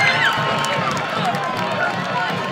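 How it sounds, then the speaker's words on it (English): Stadium crowd at a varsity high school football game between Southeast Seminoles and Wesley Chapel Wildcats roars and cheers after a touchdown, with the student section loud and continuous throughout, shouting and whistles rising over the steady din. "The crowd has gone wild."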